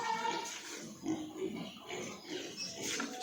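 Several farm pigs being fed grunt and oink close by, a continuous snuffling chorus of low grunts with a few higher squeals over steady background noise.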